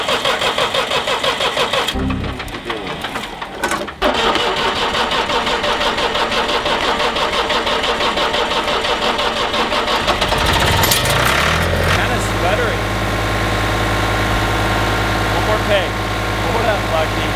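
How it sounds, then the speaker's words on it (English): A farm tractor engine cranks and catches, then runs loud and steady at full throttle on a cold homestead, with a deep constant drone and people talking over it. "if I keep him on full throttle, Lucky stays on, so don't mind the loud tractor noise in the background"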